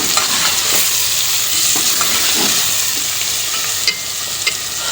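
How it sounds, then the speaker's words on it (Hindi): Meat and pumpkin fry in a pan with a continuous loud sizzle, broken by occasional scraping stirs and clinks from a spoon against the pan. "गोश्त और कद्दू को अब हम अच्छी तरह भून लेंगे।"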